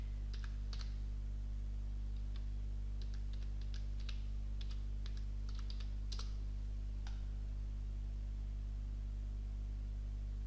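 Typing on a computer keyboard during Windows Server 2012 setup, a scattered run of light key clicks in the first seven seconds over a constant low electrical hum, then only the hum remains.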